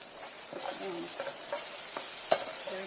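Chopped tomatoes fry in a pan for a Godavari koyyanga fish curry, a quiet sizzle broken by several brief scrapes and taps of a spatula stirring.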